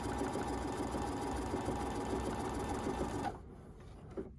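A sewing machine stitches fabric for a face mask in a steady, continuous whirring run for about three seconds, then stops, leaving faint quiet handling sounds.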